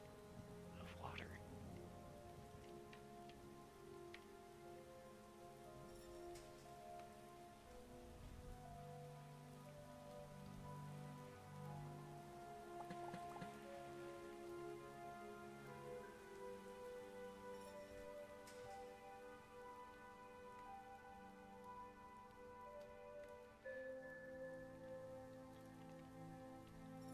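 Rain falls in the video game Starbound as a soft, steady patter beneath tonal background music for the whole stretch.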